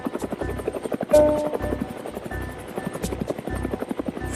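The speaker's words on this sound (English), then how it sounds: "Attack helicopters and other aircrafts for tactical operations as well as for personnel and logistical movements has been crucial to peacekeeping missions around the globe." An attack helicopter flies nearby on a peacekeeping mission, its rotor beating in a loud, steady rhythmic chop throughout with a swell of engine noise early on and no talk over it.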